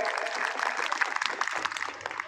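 Audience at a mushaira breaks into applause, a dense patter of hand claps that holds steady, then thins into scattered claps toward the end.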